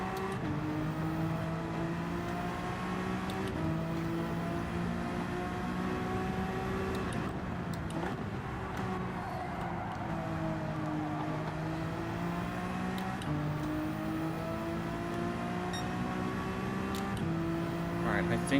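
Race car engine in the Gran Turismo video game, a steady high-pitched drone that rises and dips through gear changes and keeps going continuously at a moderate level.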